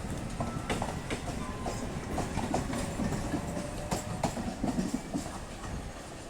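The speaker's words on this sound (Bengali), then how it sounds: "দেখুন, আমাদের ট্রেন এবার বাঁ দিকে বেঁকে যাচ্ছে" A local train on the single-track Ranaghat–Bongaon line rolls steadily at close range, its continuous rumble broken by rhythmic wheel clicks and rattles from the carriages, with no voices.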